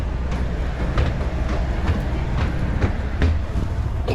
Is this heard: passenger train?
yes